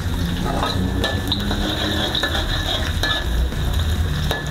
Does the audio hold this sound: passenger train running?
no